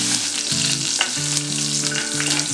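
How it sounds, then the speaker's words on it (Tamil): Green chilli and fresh curry leaves temper in hot oil for a carrot and spring onion poriyal, giving a steady close crackling sizzle throughout, with stirring scrapes and a few sharper pops. "கூடவே கொஞ்சம் ஃப்ரெஷ்ஷான கருவேப்பிலை சேர்த்து தாளிச்சிடலாம்."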